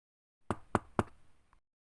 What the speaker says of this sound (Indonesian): Ibu pun segera bergegas bangun dan mengetuk pintu kamar anaknya.